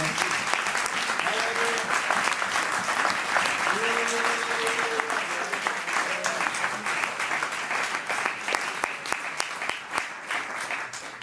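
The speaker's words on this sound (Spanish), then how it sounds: "Denle un fuerte aplauso a Cristo." Loud, sustained applause from a large church congregation, steady throughout, with a voice faintly audible over the clapping near the start.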